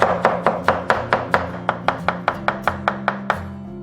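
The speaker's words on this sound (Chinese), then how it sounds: "然后再切成丝" A knife cuts kohlrabi into shreds on a cutting board with about sixteen close, crisp chops in a steady, even rhythm, with no talking.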